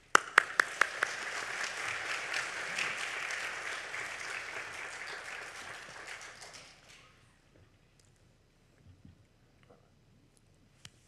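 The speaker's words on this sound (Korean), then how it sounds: "이 시간 우리 전 목사님 나오실 때 큰 박수로 환영해 주시기를 바랍니다" A church congregation applauds to welcome a pastor at a 40th-anniversary Sunday worship gathering: dense clapping that swells and holds for several seconds, then fades into near silence with a few scattered claps.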